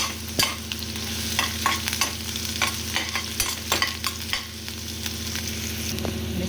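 Onion, crushed ginger and garlic frying in a pan over mustard seeds, steady sizzle with repeated stirring scrapes and taps, close and continuous.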